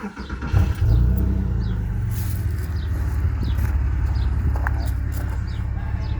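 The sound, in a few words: sports car engine starting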